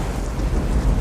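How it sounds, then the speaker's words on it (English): Deep rumbling thunder rolls beneath a wash of heavy rain and wind in a storm scene from the film Point Break, loud and continuous with no voices. "But I knew you wouldn't miss a 50-year storm, Bodie."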